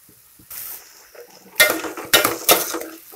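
Onions frying for onion chicken curry sizzle in a pan while a utensil scrapes and clinks against the metal in several distinct stirring strokes, close and fairly loud.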